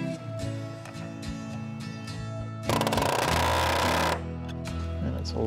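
A nail gun rapidly drives a burst of nails into a concealed flange LUC210Z joist hanger on a cabin deck, loud and dense for about a second and a half over a steady mechanical hum.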